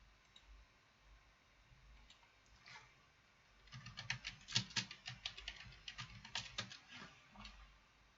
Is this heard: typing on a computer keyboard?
yes